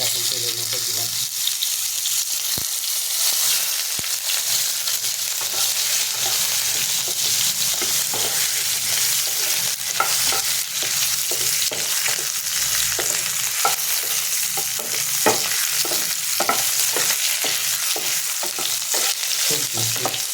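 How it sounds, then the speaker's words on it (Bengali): Six small boiled potatoes frying in hot oil after tempering spices, a loud, steady close sizzle with occasional clinks and stirring scrapes throughout. "6টা ছোটো আলু আমি সেদ্ধ করে রেখেছিলাম, সেটা এখন তেলের মধ্যে দিলাম"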